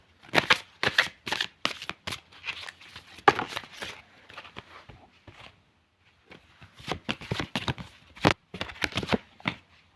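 Tarot cards shuffled by hand close by, in quick bursts of crisp riffling flutters, a pause of a couple of seconds in the middle, then more shuffling.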